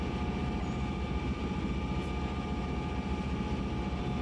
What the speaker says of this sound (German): Aber man hört jetzt ganz gut die Motoren mit dazu.